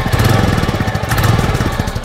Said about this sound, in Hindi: इंजन की बात करूँ तो काफ़ी रिफाइंड आ रही है साउंड।